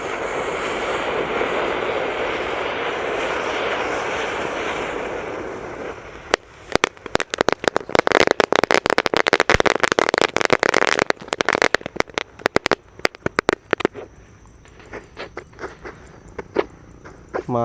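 Whistling firecrackers set off outdoors, a long rising shriek for several seconds followed by a rapid, irregular barrage of loud sharp cracks and pops that thins out toward the end.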